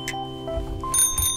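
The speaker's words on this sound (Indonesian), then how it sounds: "Aku suka loncengnya, suaranya kring-kring." A bicycle bell rings out with bright, metallic trills, one short burst near the start and a longer ringing flurry toward the end, close and clear over a low background hum.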